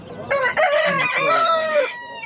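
A single rooster at the Edirnekapı poultry market lets out one loud, close crow lasting over a second, with faint market clatter around it.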